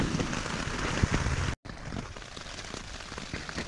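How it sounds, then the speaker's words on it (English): Overnight rain on a tent at a backcountry camp on a ridge, a dense, close patter of drops drumming the fabric continuously, broken by one very brief dropout. "It has rained all night."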